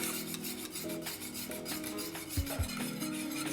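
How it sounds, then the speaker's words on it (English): A spoon scrapes and rubs rhythmically around a pan as a thickening dessert mixture is stirred, a steady close rasping repeated about twice per second over a faint background hum, with no talking. "now need to stir this for about 5 to 6 minutes until it thickens up"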